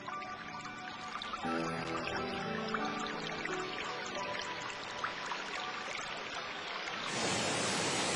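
Water pours and trickles out of forest soil in a continuous, fairly faint rush, with a broader surging wash near the end.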